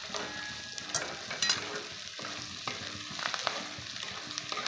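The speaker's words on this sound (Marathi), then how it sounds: "मस्तपैकी सगळं मिश्रण भाजायला चालू आहे बघा." Peanuts and broken pieces of stale bhakri roast together in a pan, giving a steady, close crackling sizzle with soft scraping stirs throughout and no voices.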